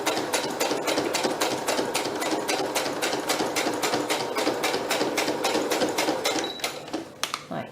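Sewing machine stitching fabric and lace for a junk journal puffed pillow, a fast even rattle of needle strokes running continuously, close and clear, slowing to a stop near the end.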